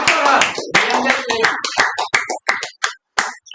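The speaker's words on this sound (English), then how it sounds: "Clap for us." Scattered clapping from a small Toastmasters club audience, a few close hand claps in short bursts with gaps between, mixed with brief speech and a voice at the start.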